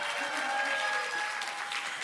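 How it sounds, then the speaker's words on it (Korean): Applause from the audience at a Democratic Party 70th anniversary ceremony, a dense, even patter of clapping heard from a moderate distance. "큰 박수 부탁드립니다"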